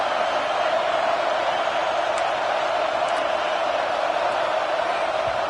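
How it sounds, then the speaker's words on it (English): A stadium crowd at a college football game, Miami at Penn State late in a close contest, roars as one continuous, dense wall of noise, loud and steady throughout. "This crowd is trying to inspire this defense to make a big red zone stop."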